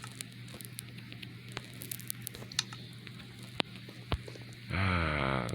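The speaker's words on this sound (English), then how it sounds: "The sweet sound of rain." Steady patter of rain falling in the Minecraft Bedrock Edition video game, a soft even hiss with scattered sharper ticks, heard alone and then cut off by a brighter louder burst near the end.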